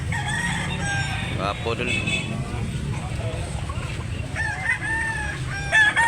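A rooster crows amid clucking fowl, with someone talking in Cebuano about the gamecocks throughout.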